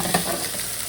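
Cheeseburger patties sizzle steadily in a hot pan just after being flipped, a dense close frying hiss with a brief scrape early on and no talking.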